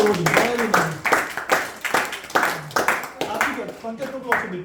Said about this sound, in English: please give a round of applause to these four devotees